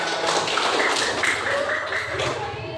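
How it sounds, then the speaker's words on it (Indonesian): A class of pupils claps for a group presentation in a Pancasila lesson, sustained crowded hand-clapping nearby with faint voices murmuring underneath. "Oke, tepuk tangan."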